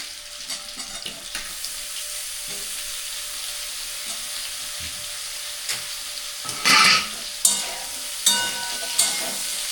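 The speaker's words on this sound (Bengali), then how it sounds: "বেগুনও হালকাভাবে ভেজে নেব" Oil sizzles and crackles steadily as eggplant fries in a pan, with a few louder bursts of hissing and stirring clatter near the end.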